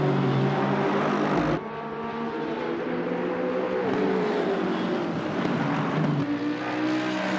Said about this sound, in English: Pando Pareto has his Mercedes locked onto Simpson's rear